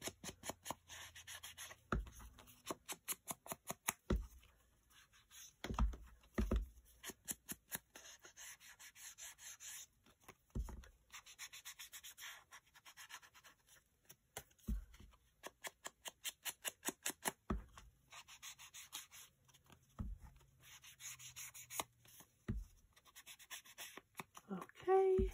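Scissors cutting craft material for a Victorian junk journal, repeated close rhythmic snipping and rubbing in short bursts, fairly quiet, with a person talking in between.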